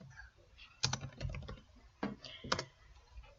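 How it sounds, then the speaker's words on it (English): Computer keyboard typing in a spreadsheet program: a few quick clusters of key clicks with short pauses between them, close and moderately loud with no talking. "We simply type over the new name and enter."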